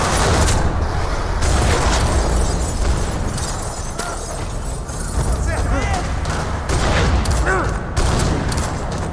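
Gunfire rattles through a parking lot in Max Payne 3, with repeated loud bursts and booms layered over dense action noise and a voice speaking amid the shooting.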